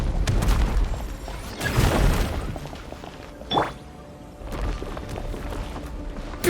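A breakable wall in Genshin Impact is blasted open with a deep boom and crashing debris, followed by a sharp crack and rumbling aftermath, heard without talk.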